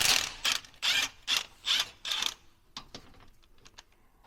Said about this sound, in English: now we're gonna remove these two big bolts and the whole thing will come right out